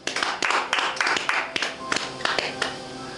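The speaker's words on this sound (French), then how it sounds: "Acclamez pour le Seigneur" A church congregation claps and cheers in praise during a worship service, a loud burst of irregular hand claps and shouts that keeps going steadily, with voices mixed into the noise.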